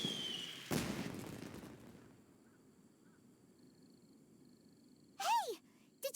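A single sharp boom of fireworks in the Genshin Impact game bursts out early, followed by a fading rumble, then a quiet ambient stretch and a short whistling chime near the end.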